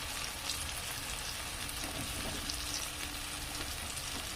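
Eggplant masala with egg fries in hot oil as turmeric goes in, a dense, steady close sizzle with faint stirring scrapes throughout and no voices.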